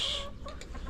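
Hens about seven months old cluck briefly and close by, a quick run of short throaty clucks with no talk.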